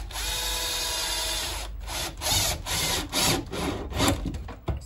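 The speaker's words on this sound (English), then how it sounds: "Screwing it further down." A power screwdriver drives screws to fix a SAJ Sununo TL4KB grid-tie solar inverter in place, a steady whir followed by several short bursts of grinding and clicking, close and fairly loud.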